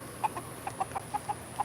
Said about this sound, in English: These are silky chickens.